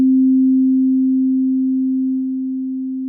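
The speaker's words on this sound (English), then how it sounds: "Let's go ahead and play the sine wave and bring down the threshold." A steady pure sine-wave test tone fed through a compressor, holding one unbroken pitch for about three seconds with no other sound, its level easing down slightly toward the end.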